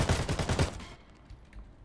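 A rapid burst of video game gunfire lasts just under a second, a loud, dense automatic volley that cuts off into near quiet.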